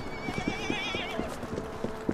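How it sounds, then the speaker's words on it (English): In the video game Assassin's Creed Syndicate, a horse gives a warbling neigh over a steady clip-clop of hooves, the whinny fading after about a second while the hoofbeats keep a regular rhythm. "Don't worry, horse. I'm not here to kill you."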